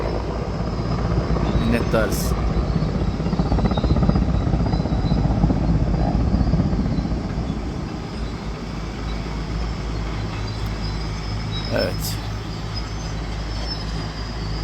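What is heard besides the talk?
military helicopter flying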